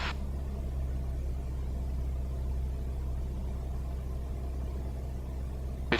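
Light aircraft engine droning steadily from inside the cabin on a landing circuit, a loud continuous low rumble with even tone throughout.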